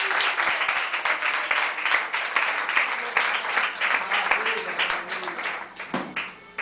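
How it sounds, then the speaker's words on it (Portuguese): A church congregation applauds the Lord during an evening service, sharp rhythmic clapping from many hands close by, with faint voices mixed under the claps. "Aplauda o Senhor nessa noite."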